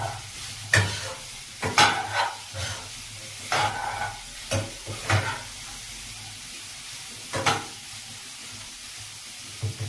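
Chickpeas and peas frying in a pan for ghugni, a soft steady sizzle broken by repeated scraping stirs of a spoon against the pan, close and fairly quiet.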